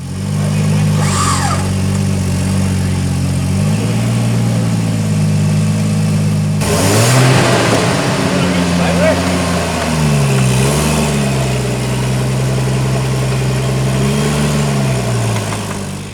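A 4x4 truck stuck in a bog hole in Bunyip Forest, its engine loud and close, idling low and then revving hard in several surges with wheel-spin and mud noise mixed in.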